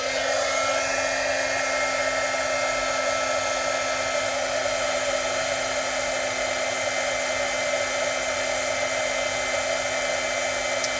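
Handheld heat tool melting embossing powder for papercrafting, a constant loud fan-like whir with a steady hum that runs unchanged throughout.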